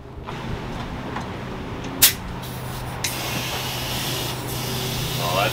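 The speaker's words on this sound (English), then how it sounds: "I guess we're going to plug some shop air into this thing and see if it goes up." Compressed shop air hisses steadily into the air bag suspension of a Ford Excursion, a continuous rushing sound with a sharp burst and a few clicks along the way.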